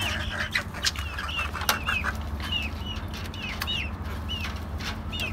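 Free-range country chickens cluck and squawk in repeated short calls while scrambling over mixed feed, with occasional wing flaps and a steady low hum underneath; the birds sound fairly close.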